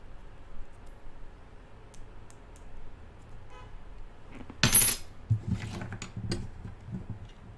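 A bunch of house keys on a magnetized key ring jingles and clinks in a short metallic burst midway, followed by a few lighter rattles, fairly close with no talk.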